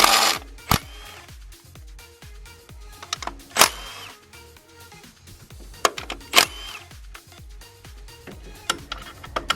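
A ratchet clicking in quick runs as 10 mm bolts are turned out of an engine cover tray, with sharp metal clanks and taps between the bursts, close and clear.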